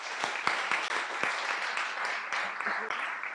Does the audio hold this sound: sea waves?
no